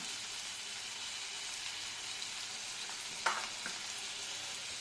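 Spiced chicken khichuri being stirred in a pan gives a steady, even sizzling hiss of frying with one sharper scrape of the spoon near the end, close and moderately loud, with no talking.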